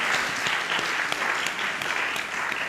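Steady applause from an audience at a university student venture demo day, filling the whole short stretch at an even, moderately loud level with no talk over it.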